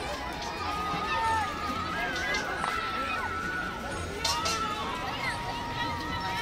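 A dense, steady hubbub from a large crowd of people at Lohiya Park in Kannauj, with overlapping voices, shouts and high calls spread through the whole stretch, fairly loud and close.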